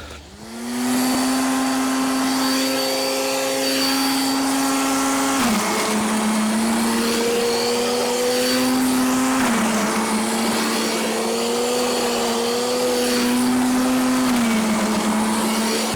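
A string-trimmer-line mulcher runs loud and close with a steady high motor whine. Its pitch dips briefly several times as material feeds through and shreds, and no one speaks.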